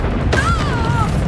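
Bombarda spell cast in Hogwarts Legacy: a sharp magical burst with a whistling, wavering tone trailing off over about a second, set against steady game background noise.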